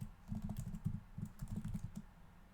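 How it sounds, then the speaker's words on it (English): Rapid bursts of clattering keystrokes on a computer keyboard, typed in uneven runs with brief pauses, close and clear with no voices. "I don't know what I was typing there"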